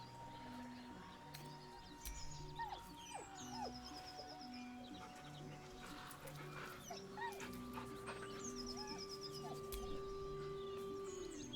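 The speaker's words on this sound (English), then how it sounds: "With a deep, heartbroken whine, the dog bows his head." Scratch, a dog in the video game Baldur's Gate 3, lets out repeated soft, high whines and whimpers. They sit over a low, droning ambient music bed with faint bird-like chirps.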